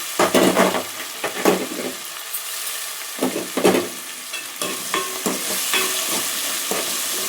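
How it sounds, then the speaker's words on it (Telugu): Ginger and garlic fry in a pan: scraping, clattering stirs open the sequence, then a steady close sizzle settles in, with no voices. "అల్లం ఎల్లిగడ్డ మంచిగా వేగాలి"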